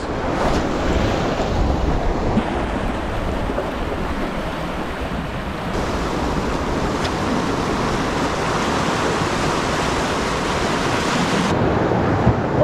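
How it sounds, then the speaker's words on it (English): Ocean swell and surf washing in steadily at a falling tide on a bass fishing coast, a continuous loud roar of breaking waves with wind buffeting the microphone throughout. "that swell has come out of nowhere as that tide's dropping"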